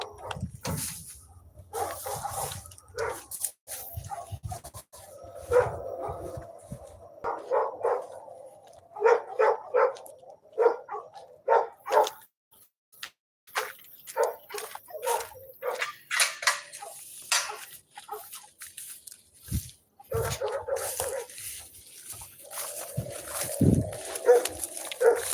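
A dog barking at night, 3 a.m., heard as repeated loud barks in irregular bursts with some whimpering, close by and carrying on across the whole stretch, with brief pauses between volleys.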